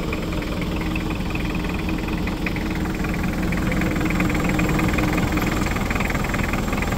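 Mitsubishi Pajero engine idling after sitting unused for years, a loud, close, continuous rough rumble with steady mechanical clatter and no pauses.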